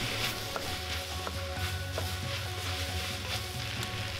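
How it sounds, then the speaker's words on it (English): Onions cooking in a pan with dried thyme, oregano and pepper for a red onion jam, a steady close sizzle with a few faint scraping stirs, no talk. "continue cooking the onions until they start to brown"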